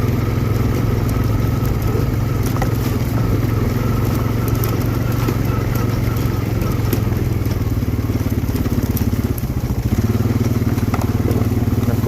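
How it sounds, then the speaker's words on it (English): A four-wheeler ATV engine runs at a steady idle nearby, a continuous low rumble with faint crackle, loud and unbroken throughout. "So we're going to leave the four-wheeler running."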